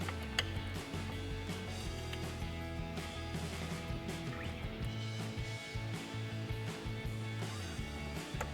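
A ratchet with an 8mm socket tightens Mustang bumper hardware, making faint, rapid clicking under a steady mechanical hum and low background music.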